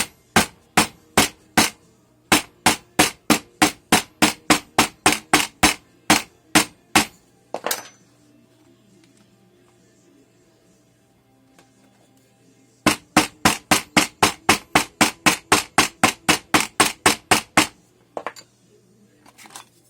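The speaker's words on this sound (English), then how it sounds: "I'm going to really hammer this down." Rapid, sharp hammer blows strike in quick regular runs, packing red clay into a casting mold, loud and close, with a quiet gap in the middle before another long burst.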